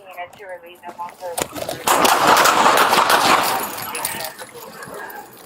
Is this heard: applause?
no